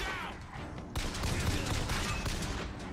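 Gunfire from the video game Bioshock Infinite, a dense burst of rapid shots rattling continuously after a brief lead-in, loud and close.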